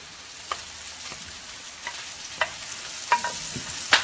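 Shark steak and swordfish frying in a pan give off a low, steady sizzle, broken by a few soft clicks and taps as the pieces are turned, with no voices.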